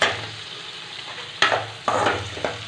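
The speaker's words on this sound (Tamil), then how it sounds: "வெங்காயம் நல்லா கோல்டன் ப்ரௌன் வர வரைக்கும் நல்லா வதக்கிக்கோங்க, அப்போ தான் டேஸ்ட்டாக இருக்கும்." Onions and green chillies sauté in a pan, a steady soft sizzle broken by three louder bursts of frying hiss as the mix is stirred.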